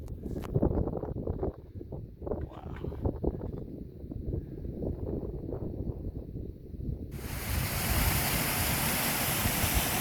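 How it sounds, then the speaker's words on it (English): Waterfall along a mountain hiking trail, a broad steady rush that swells louder in the second half, mixed with wind buffeting the microphone and footsteps. "a gorgeous waterfall right here"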